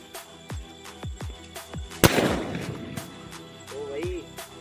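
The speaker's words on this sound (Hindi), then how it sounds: "भाई करते हैं इसकी टेस्टिंग, देखते हैं किस प्रकार इसका धमाका होता है।" A Diwali firecracker bursts in one loud, sharp blast partway through, followed by a crackling, fizzing tail, with a series of fainter distant pops and bangs before and after.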